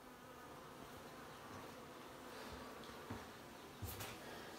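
Bees buzz inside the wall cavity of a house where a hive has been partly cut out, a faint steady hum with a couple of brief knocks near the end.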